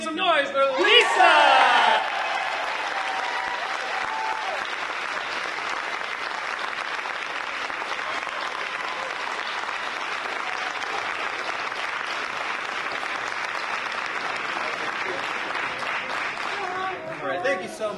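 At a spring choral concert, an audience breaks into steady, sustained applause with some cheering and whoops for a singer, the clapping continuing evenly for many seconds.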